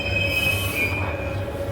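Metro train wheels screech through a subway station, a loud, sustained high-pitched squeal with steady tonal whines over a low rumble of rolling cars.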